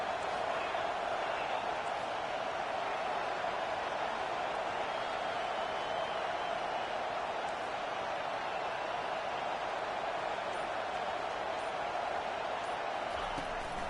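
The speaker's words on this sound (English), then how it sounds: "this crowd trying to help keep them there" A football stadium crowd roars in a steady, dense wash of distant voices at a game against sixteenth-ranked Oregon, continuous and unbroken throughout.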